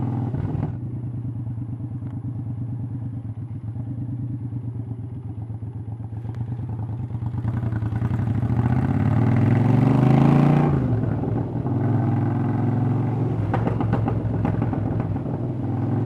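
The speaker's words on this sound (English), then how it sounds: "thunderous exhaust on this thing, or lack of. Honestly, I don't think there's any silencers on it." Triumph Speedmaster motorcycle with a very loud exhaust, apparently lacking silencers, rumbles close by, swelling as it revs and then settling back into a rough, clattering idle.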